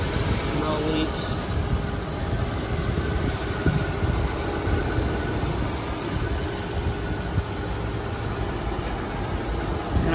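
The engine of a 2009 Mercedes GL 450 idles steadily, giving an even, continuous hum with a broad rumble throughout and no change in pace.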